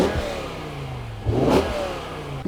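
A BMW E60 M5's V10 engine idles with a low rumble, then revs up sharply once in the middle before settling back, heard close up.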